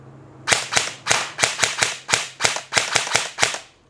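An airsoft rifle fires on semi-auto: about ten crisp, snappy shots in a quick, fairly even rhythm, loud and close, with no talking.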